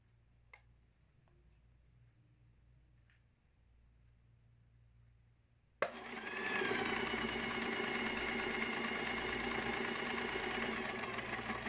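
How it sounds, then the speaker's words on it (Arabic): Quiet room tone with a couple of faint clicks gives way to a sewing machine stitching dress seams: a sudden start, then a steady, close mechanical whir with rapid ticking needle rhythm running to the end. "نخيط قدام وراء قدام أو وراء بعدين قدام"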